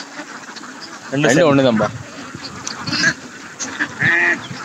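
Several nasal duck quacks sound close by in short bursts at a river, with people talking briefly between them over steady outdoor background noise.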